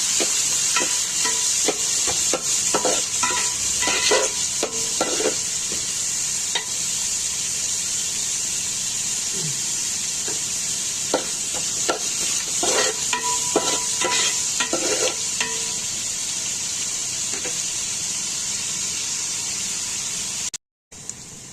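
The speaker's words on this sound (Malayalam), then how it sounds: "ഇതെല്ലാം ഒന്നിട്ട് കുറച്ച് ഉപ്പ് കൂടിയിട്ട് നമുക്ക് നല്ലതുപോലെ വഴറ്റിയെടുക്കാം." Onions sauté with salt in a pan, giving a steady hissing sizzle. Bursts of stirring scrapes and clinks come and go, and there is no talk.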